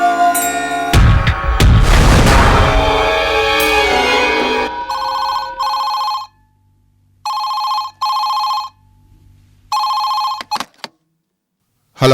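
A telephone rings in four separate loud bursts with silent gaps between them, after a noisy opening passage.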